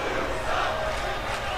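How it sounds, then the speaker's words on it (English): Arena crowd in the WWE 2K wrestling game reacting to a brutal beatdown of fists and knee strikes, a broad roar of many voices with a surge of jeering, fairly loud and continuous. "The crowd not happy with this violent display we are seeing from Jordan Richard"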